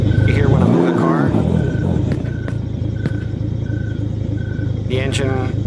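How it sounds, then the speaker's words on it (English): A car engine in an Unreal Engine video game cranks up as the car moves, a steady droning rumble with rising revs running under continuous talking. "the engine kind of cranks up whenever the car is moved"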